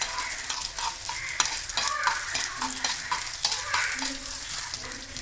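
Small pieces of chopped coconut fry in ghee for green gram payasam, giving a bright continuous sizzle overlaid with frequent scraping and clinking as a spoon stirs the pan, close and lively.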